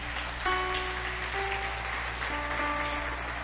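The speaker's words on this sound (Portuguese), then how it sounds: "Pode aplaudir Jesus mesmo" A church congregation applauding, a steady wash of clapping under sustained organ or keyboard chords that continues throughout.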